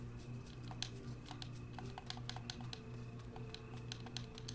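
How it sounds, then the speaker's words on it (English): Rapid clickety-clack of video game controller buttons pressed close by during gameplay, a steady run of small plastic clicks over a low humming background. "Sorry about the clickety-clack of my controller"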